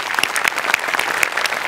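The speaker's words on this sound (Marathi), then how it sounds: "जोरदार टाळ्या" Loud, dense applause from a studio audience after a performance on a Marathi comedy show, a continuous patter of many hands clapping close by, with faint crowd murmur.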